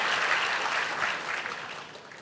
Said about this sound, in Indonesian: Boleh tepuk tangannya di extend buat worship leader, singers, dancers,